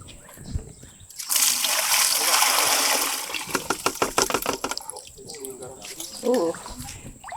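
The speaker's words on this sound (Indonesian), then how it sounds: "Oke, sekarang kita mau buka dia punya air." Water released over young rice paddy seedlings gushes in a loud, steady splashing rush for a couple of seconds, then breaks into choppier splatters and trickles, with someone talking nearby.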